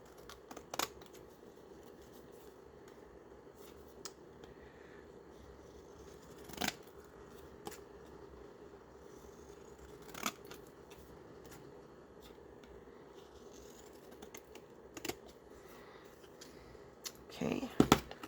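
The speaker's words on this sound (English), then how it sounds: "Let's go ahead and take our pinking shears and go around." Pinking shears cutting around the edge of paper for faux stamps, heard as scattered soft snips spread through a quiet room, with a small cluster of sharper cuts near the end.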